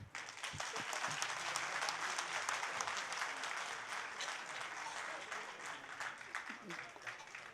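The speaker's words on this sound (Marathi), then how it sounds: "टाळ्या इतक्या कमी." A crowd at a felicitation ceremony claps continuously, a dense steady patter of hands that holds at an even level and eases slightly toward the end, under a voice speaking.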